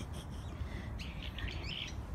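Birds chirping in a park in winter, scattered bright tweets and short calls over low background rumble, no talk during the sounds.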